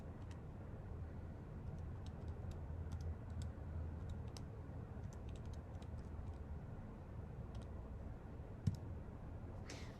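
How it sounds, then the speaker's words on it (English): Faint, scattered clicks of calculator keys being pressed in irregular bursts, quiet and close, over a low steady background hum. "Lots of typing in my calculator here."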